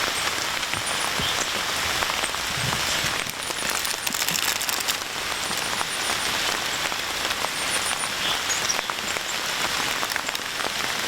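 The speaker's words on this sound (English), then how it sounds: "This tree was good shelter for the light rain, but I think it's starting to come in heavier." Steady rain pours through the Algonquin forest canopy, a dense, even hiss of drops pattering on leaves and ground, close and unbroken with no voices.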